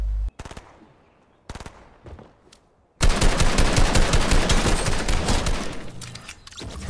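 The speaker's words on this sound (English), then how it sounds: "Someone else is shooting him, though." Rapid automatic gunfire from the video game Fortnite: a few sharp bursts early, then a sustained loud stream of shots lasting several seconds, close and dense, with no talk over it.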